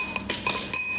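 Cutlery clinks against dishes during a meal of steamed clams, a few sharp, close metallic taps and chimes over about a second, with no voices.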